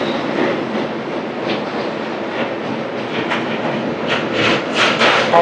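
The Howrah–Chennai Shalimar Coromandel Express, an LHB-coach train, rushes past with a continuous roar and rhythmic wheel clatter that builds slightly louder toward the end; no talking.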